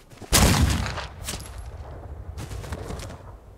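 A shotgun goes off in the Western video game Outlaws of the Old West: one loud, sharp blast with a broad crack and a decaying tail, then a few fainter mechanical clicks and thuds.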